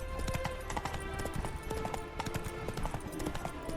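Horse hooves clip-clopping in The Witcher 3: Hearts of Stone, a steady trotting rhythm of hoof beats under game music and ambient sound, fairly close.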